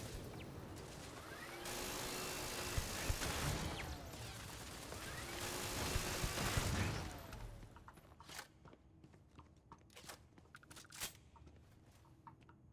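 Dense gunfire from the space game Starfield roars loud and continuous for several seconds, then thins into scattered sharp shots and impacts over a quieter background.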